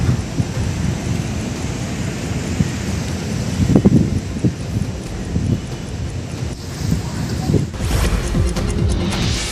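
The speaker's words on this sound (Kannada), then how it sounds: "ಬಿರುಗಾಳಿ ಸಹಿತ ಭಾರಿ ಮಳೆ ಸುರಿತಾ ಇದ್ದು" Heavy rain during a thunderstorm with strong wind, a steady dense roar of rain and gusts buffeting the microphone, with a low rumbling crash partway through and another burst near the end.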